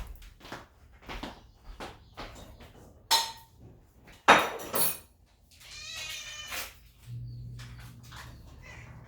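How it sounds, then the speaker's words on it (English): A cat meows repeatedly while waiting to be fed, with clinks of dishes and cutlery and a sharp knock as food is prepared nearby, the meows rising in a harmonic cry toward the end. "Give me 1 second to feed him or he's going to just keep meowing."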